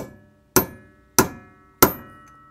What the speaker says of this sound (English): I'm going to line up my chisel to do that give it a couple of whacks with sledgehammer.